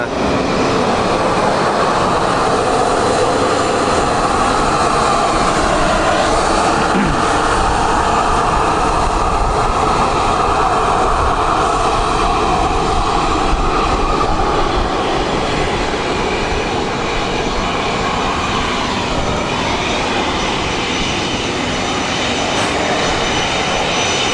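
Business jets taxi close by at Luton airport, producing a continuous loud engine whine and rumble that stays fairly constant throughout, with no one speaking.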